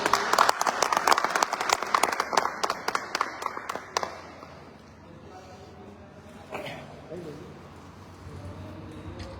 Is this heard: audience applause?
yes